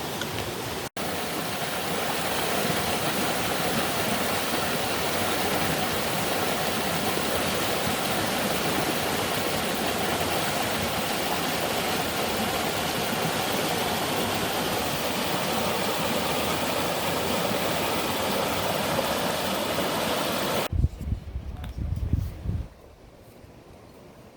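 A clean, tea-colored stream stained by tannin flows along the Appalachian Trail, giving a steady, close rush of water that holds evenly for about twenty seconds before cutting off abruptly, with brief handling noise afterward.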